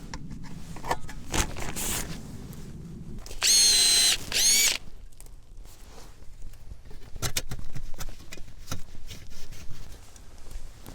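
A power drill gives a couple of short, loud bursts as it bores tap holes into a maple tree outdoors. A steady hiss of background noise runs under the drill.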